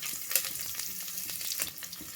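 Thinly sliced medium onion frying in hot oil with whole spices for tomato rice, a steady close sizzle broken by scraping stirs of a spatula against the pan.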